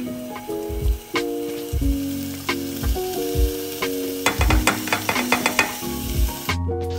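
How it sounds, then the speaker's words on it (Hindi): Finely chopped chicken pieces fry for a restaurant-style chicken soup, with a loud, close sizzle and repeated spatula scrapes and taps against the pan at an irregular, busy rhythm. "फ्राय जातकूच जे फाईन चॉप केल्ले चिकन पीसेस ॲड करचे तेजे भितर"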